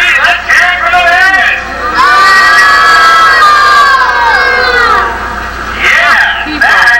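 A sports crowd cheers and shouts loudly in a long swelling roar, with bursts of voices before and after and an announcer speaking over the noise.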